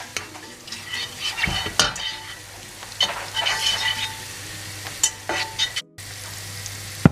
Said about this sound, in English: So I'm going to mix the oil and the butter together.